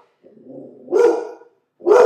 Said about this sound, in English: my dog gets really upset when there's someone out there